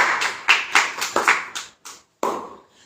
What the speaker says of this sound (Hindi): ताली बजाएंगे इस खुदा की।